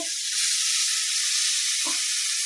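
Steady, loud sizzling hiss throughout as water hits hot oil with Kashmiri red chili powder in a pan for kadhi, with a brief low thump near the end.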